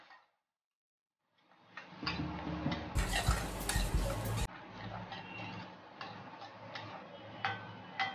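Crushed garlic and ginger stirred into onions in a pan for Kerala chicken thoran, with a spoon scraping and clicking against the metal in a steady rhythm and a louder burst of sizzling in the middle.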